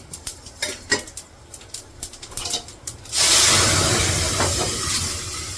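Several light metallic clinks and scrapes from a cooking pot, then a lid set down, followed by a steady loud hiss of steam or sizzling that continues to the end.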